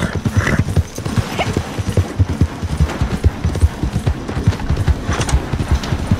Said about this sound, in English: Horse, why are you running?